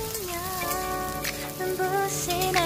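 Chopped onion frying in oil with tempering spices: continuous close sizzling and spattering like light rain, with faint tonal background hum and no voices.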